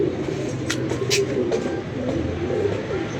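Several pigeons coo steadily close by, a continuous low warbling burble with a few sharper flutters over it.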